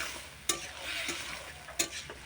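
Curry being stirred in a pan after a splash of water, a soft steady scrape with faint frying underneath and two sharper utensil knocks against the pan.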